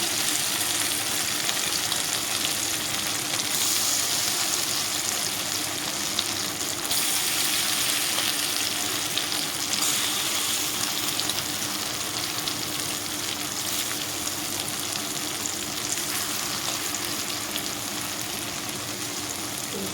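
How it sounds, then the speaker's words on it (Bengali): Bitter gourd fries in a pan with a dense, constant crackling sizzle, loud and close, holding steady throughout with no voices. "লাল লাল করে ফ্রাই করে নেব"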